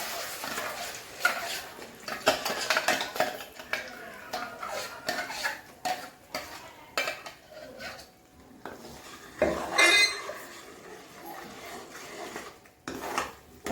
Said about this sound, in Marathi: मी आता ती टाकते कढईमध्ये.